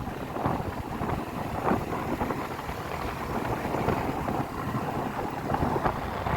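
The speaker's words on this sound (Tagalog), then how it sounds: "Hangin dito eh." Wind buffets a microphone at a windmill farm on a motorcycle ride, continuous low rumbling gusts and rustling bursts throughout, loud and close, with no voices.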